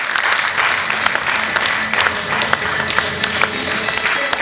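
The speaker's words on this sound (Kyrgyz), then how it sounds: "Кол чаап койсоңуздар." Loud, close applause fills a hall during an award ceremony for manaschi, reciters of the Manas epic, in 2019. The clapping holds as a thick, continuous patter with scattered sharper claps throughout.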